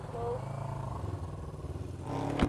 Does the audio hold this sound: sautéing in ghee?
no